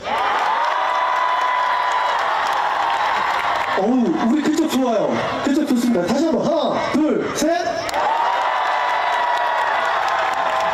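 A large crowd at a national farmers' convention cheers loudly on cue, a sustained roar with whoops and laughter rising after a short spoken count, then fading back into a steady din.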